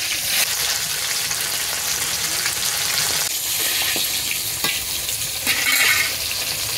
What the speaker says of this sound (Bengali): মাছের এক পিঠ ভালো করে ভাজা হয়ে গেছে, এবার আমি উল্টে দিচ্ছি মাছটা।